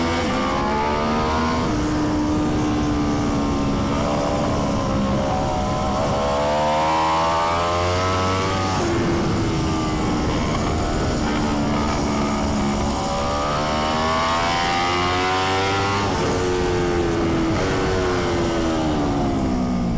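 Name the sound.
Aprilia X-GP racing motorcycle at full throttle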